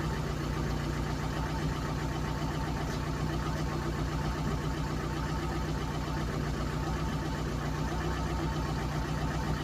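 A Ford Cortina engine idles steadily and loudly, a constant close rumble with a faint knocking rhythm and no voices.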